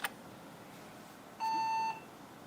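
A single steady electronic startup beep from an HP dc7800 SFF computer lasting about half a second, clear and moderately loud against faint background hiss, preceded by a brief click.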